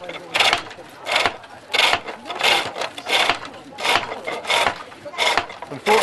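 Big skew chisel cutting wood on a pole lathe: rhythmic bursts of scraping and shaving, roughly twice a second, rise and fall as the treadle-driven work spins back and forth, with faint background noise.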